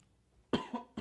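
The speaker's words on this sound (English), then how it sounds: "cough break." A person coughs in a quick cluster of three close, loud bursts, the first strongest, after a near-silent lead-in.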